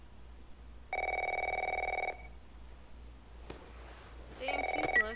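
Telephone ringing in the video game The Last of Us, two electronic rings, each about a second long, with a click between them, clear and fairly close over a quiet background.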